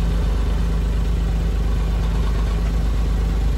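A minivan engine idles with a loose muffler, giving a loud, steady, close low rumble that continues without change throughout.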